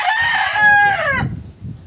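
A rooster crows once, a loud drawn-out cock-a-doodle-doo close by, trailing off into quiet low background noise.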